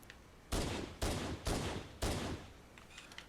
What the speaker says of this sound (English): that's a pistol doing that